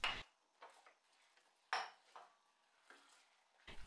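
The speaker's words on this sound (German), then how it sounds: "Butter, Zucker, Honig und Sahne in einem Topf aufkochen und die Walnüsse unterrühren." A spoon scrapes and clinks against a pot while walnuts are stirred into butter, sugar, honey and cream, in a few short, quiet strokes with pauses between them.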